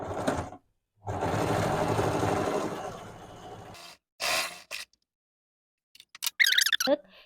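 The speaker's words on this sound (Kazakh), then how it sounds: "1 сантиметр етіп қайырып аламыз да машинкамен тігіп шығамыз" A sewing machine stitches along a folded fabric edge on a small pouch, running in a steady whir for about three seconds, then in short separate bursts with silent gaps.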